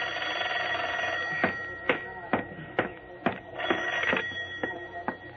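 A telephone bell rings in a radio drama scene, a run of sharp, evenly spaced rings sounding close and clear above a steady hum, with no one speaking.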